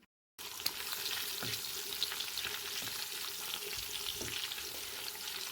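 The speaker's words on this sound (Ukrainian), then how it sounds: "Кладемо салко, м'яско, підсмажуємо це все добре." Pork fat sizzles and crackles steadily in a hot pan with meat, a dense frying hiss with occasional louder pops and the scrape of stirring.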